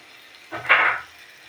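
Batter made from palm fruit pulp and flour dropped into hot oil in a home kitchen, giving a short, close burst of bubbling sizzle that swells quickly and then fades after about half a second, with no voices.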